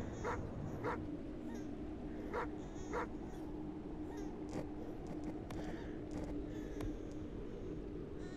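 A dog in the video game Farmer's Father gives repeated short whimpers and yips at a steady, moderate level over a constant low ambient hum, with no talk.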